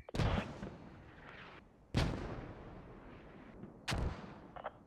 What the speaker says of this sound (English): I got a fire team engaged by mortars